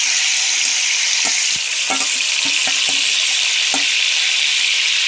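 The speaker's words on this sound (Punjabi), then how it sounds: "ਹੁਣ ਇਹਦੇ ਵਿੱਚ ਚਾਂਪ ਪਾ ਦਾਂਗੇ ਆਪਾਂ ਹੁਣ ਚਾਂਪ ਨੂੰ ਭੁੰਨਾਂਗੇ ਆਪਾਂ" Soya chaap pieces fry in hot oil with three red chillies and bay leaf, giving a loud, constant sizzle broken by scattered clicks and scrapes of stirring.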